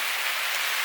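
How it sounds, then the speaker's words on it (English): Steady rain patters on a bikepacking hammock tarp at a secluded woodland campsite, a dense continuous hiss of drops close overhead with no voices. "The rain is coming down."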